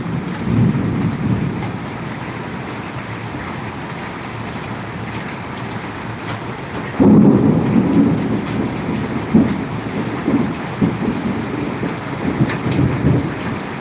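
Heavy rain pours steadily in Mirpur 13, Dhaka, a dense, loud wash with low rumbling swells that rise sharply about halfway through and continue without any voices.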